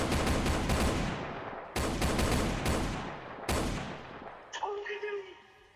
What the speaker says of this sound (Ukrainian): а він в нього стріляє. Це мій улюблений звук, коли стріляють.